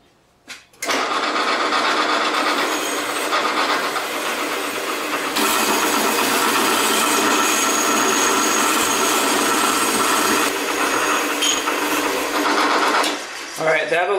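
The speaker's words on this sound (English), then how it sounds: "So we'll wire wheel it, but we'll do these bits and pieces on the drill press." A loud, steady whirring grind of a wire wheel on a drill press runs continuously for over ten seconds on Chevy car parts, starting and stopping abruptly.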